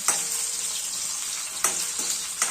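Onion frying in a pan for a fenugreek leaf and crushed peanut dish, a steady broadband sizzle with a few sharp scraping stirs, close and alone without speech.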